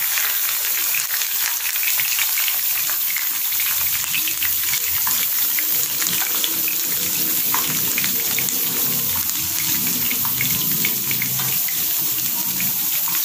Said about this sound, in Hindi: एक पैन लिया, उसमें 2 से 3 चम्मच हमने डाल दिया घी, उसमें हमने प्याज डाल दिया और रेड चिली